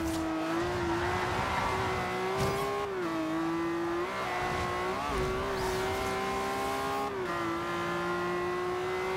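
Sports car engine racing in Forza Horizon 2, a loud sustained high-pitched roar that dips slightly at gear shifts, with faint tire squeal, close and continuous with no speech.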